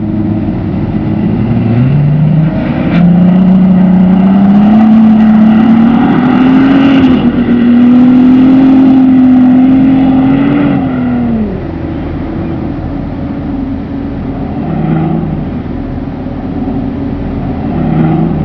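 A Bentley Bentayga SUV climbs the steep side of a sand dune, its engine rising in a sustained, loud drone that holds steady before easing off, with no talk over it.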